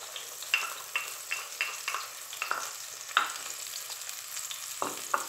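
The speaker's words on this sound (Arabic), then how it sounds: "دونك نزيد هذه لازم تتقلى هنايا." Garlic, salt and hot pepper sizzle softly in oil for Algerian batata flio, with repeated light scraping and stirring taps; close and quiet, no talking.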